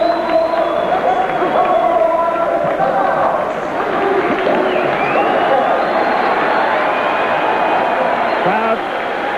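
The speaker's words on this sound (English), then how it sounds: "cheering the introduction of Pernell Pete Whitaker." A boxing arena crowd roars and cheers as Pernell Whitaker is introduced for his pro debut, a loud sustained wash of voices with whistles and shouts, while an announcer talks over it.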